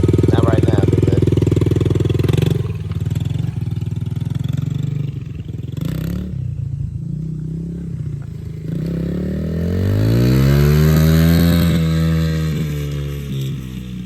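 Yamaha TTR dirt bike engine running in first gear as a young rider practices shifting, a steady loud drone that dips briefly, then revs up and falls back, close to the microphone, with people talking faintly.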